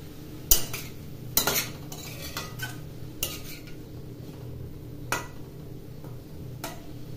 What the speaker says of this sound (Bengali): 5 মিনিট পরে এসে নাড়াচাড়া করছি টমেটোগুলিতে